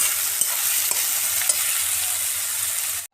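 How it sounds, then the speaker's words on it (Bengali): Onions fry in hot oil with ginger, whole cumin, dried red chillies and bay leaf, giving a steady, loud, close sizzle with faint clicks of stirring throughout. "আমি তেলে আদা, গোটা জিরে, শুকনো লঙ্কা, তেজপাতা ফোড়ন দিয়ে পেঁয়াজগুলোকে ছেড়ে দেবো"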